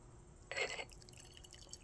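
A short, quiet splash of black tea pouring into a cup, lasting under half a second, followed by faint trickles and drips.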